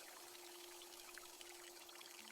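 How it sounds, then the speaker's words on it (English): Fresh water pouring steadily over tomatoes being washed, a faint, even rushing hiss with no break, alone under a low hum. "Washed clean with fresh water."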